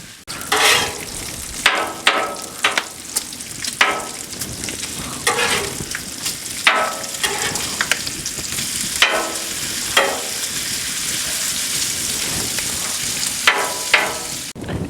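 Bacon sizzles and crackles steadily in a pan, cooked for maple bacon wings with a sweet honey pecan seasoning, with repeated louder bursts of spitting fat and stirring scrapes over a continuous frying hiss, close and without speech.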